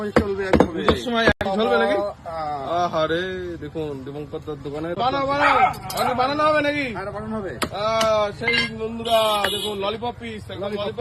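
Butcher at a mutton shop in Bangaon new market chopping local goat mutton into pieces, sharp cleaver thuds on a block heard intermittently beneath prominent continuous talking.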